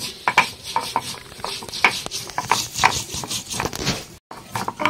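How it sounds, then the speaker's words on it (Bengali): Ginger and cumin are ground together on a grinding stone, with repeated scraping strokes and clacking knocks of stone on stone in an uneven rhythm, close and moderately loud. "আদাটা আর জিরাটা একসাথে বেটে নিচ্ছি।"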